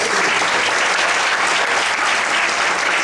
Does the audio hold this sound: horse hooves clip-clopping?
no